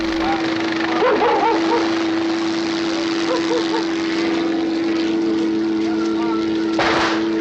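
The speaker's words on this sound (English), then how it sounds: "Dogs. Or is that dog?" Dogs barking in the black-and-white horror film Night of the Living Dead, a few yelping barks in short clusters heard under a constant droning hum and people talking.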